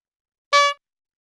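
A single short car horn honk as a sound effect, one bright blaring blast of about a quarter second in otherwise total silence.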